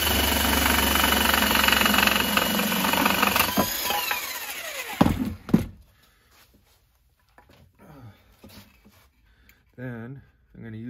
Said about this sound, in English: So I'm going to use my jigsaw here and make the first cut.